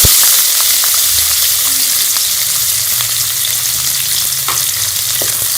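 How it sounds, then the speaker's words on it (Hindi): Onions frying in ghee in a kadhai (wok), a steady loud sizzle with faint scraping and clicking from stirring, continuous and close throughout. "कढ़ाई में मैंने 1 चम्मच घी डाल लिया। अब हम इसमें प्याज शामिल करेंगे"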